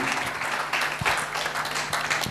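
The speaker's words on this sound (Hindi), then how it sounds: "चलो एक बार ताली बजाओ" An audience at a health talk claps together, a brisk, moderately loud patter of many hands lasting a couple of seconds.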